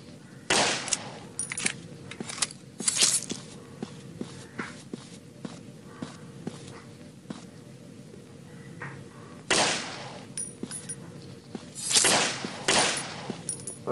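Gunfire aimed at an enemy in the Jeff the Killer horror game, heard as scattered sharp bursts spread across the stretch, loudest in a few clusters near the start and later on, over a steady low background.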